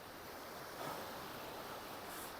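Sea waves wash onto a beach over a sandbar at dusk as the tide comes in, a faint, steady rushing surf with a slight swell partway through, and no voices.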